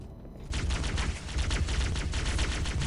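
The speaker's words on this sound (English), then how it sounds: "I would just do like a nice, good grenade toss." In Halo CE, gunfire crackles in a rapid, dense stream against Jackals in a room of the Library level, loud and continuous after a quieter opening half-second.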